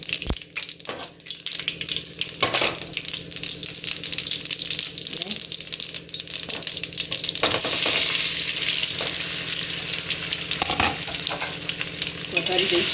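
Mustard seeds and two spoons of sesame seeds crackle and sizzle loudly in a couple of spoons of hot oil as a tempering for Gujarati patra. The steady frying hiss runs throughout, broken by occasional sharp pops and clicks.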